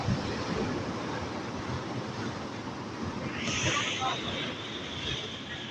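Big surf keeps pounding a shoreline in the wake of typhoon Enteng, a broad continuous roar of breaking waves with a brighter hissing wash rising midway, steady and close.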